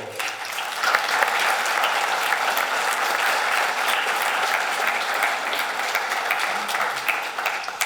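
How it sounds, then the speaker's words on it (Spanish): Sustained applause from a conference audience at an addictions congress, honoring a team; dense, steady clapping fills the full stretch at even loudness without pause. "pido un aplauso para todo el equipo"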